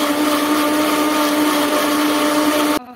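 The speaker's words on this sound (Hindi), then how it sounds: "हमने ग्राइंडर में तला हुआ प्याज दही हरी मिर्च" Electric kitchen grinder running loud and steady while blending fried onion, yogurt and green chili into a paste, its whirring motor tone cutting off abruptly near the end.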